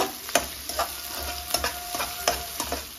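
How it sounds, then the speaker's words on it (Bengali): Chopped onions frying in oil with bay leaf for a jackfruit curry, a steady close sizzle broken by regular scraping stirs of a spoon against the pan, no voices. "পেঁয়াজটাকে আমি লাল লাল করে ভেজে নেব।"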